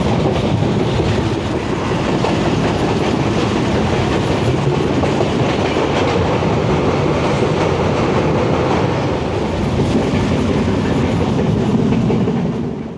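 Passenger train on a route in northern Bangladesh, heard from inside: a loud, constant rumble of wheels on rails with faint rhythmic clatter throughout, no talking.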